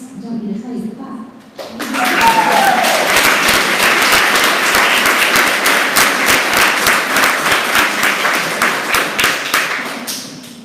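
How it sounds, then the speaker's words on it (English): Following a brief spoken introduction at an arts assembly event, an audience bursts into loud, sustained applause, dense clapping that holds for several seconds before easing off toward the end. "I don't need to tell you to clap."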